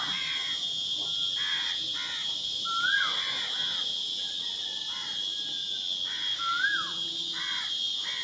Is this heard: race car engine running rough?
no